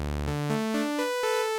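A single raw sawtooth oscillator from a Kontakt synth instrument plays a quick rising run of bright, buzzy, harmonic-rich notes, clean and alone with nothing behind it.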